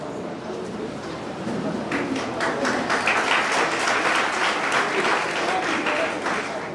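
Audience applause at the Savitribai Phule Shiksha Jyoti award ceremony, a dense, steady patter that swells after the first second and a half and keeps going, with a voice faintly present beneath it.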